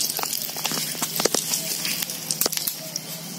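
Dried red chilli dropped into hot oil, a dense crackling sizzle with sharp pops, close and steady throughout.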